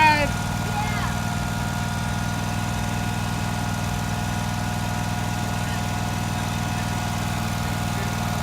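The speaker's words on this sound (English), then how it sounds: "You guys going on a lawnmower ride?" A riding lawn mower engine runs steadily throughout, a constant low droning hum with a faint vibrating buzz, loud and close with no break in rhythm.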